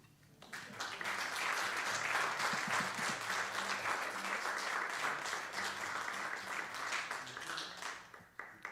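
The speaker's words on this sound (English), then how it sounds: "Give a round of applause, please." An audience at a live Irish and Moroccan music show claps and applauds steadily, a dense sustained wash of hands that swells quickly, holds loud and fairly close throughout, then fades at the end.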